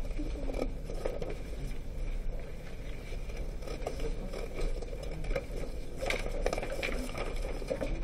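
Scissors cutting paper along dashed lines, a steady close snipping and scraping texture with soft rustling throughout, no talking.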